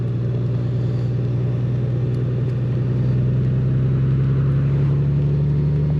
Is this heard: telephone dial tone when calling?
no